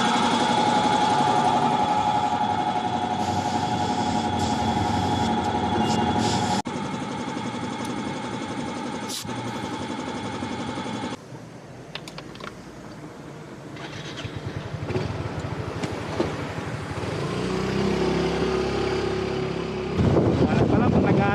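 A motorcycle engine runs steadily while riding on a road trip from Manila to Pangasinan, a loud continuous drone with shifting tones and rushing wind, changing character partway through.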